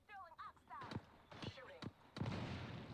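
Gunfire in the battle royale video game Apex Legends, a few sharp separate shots with game sounds, partly under a voice talking.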